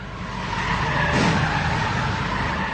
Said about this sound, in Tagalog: biglang umatras ang SUV at nagpaikot-ikot pa sa isang gasolinahan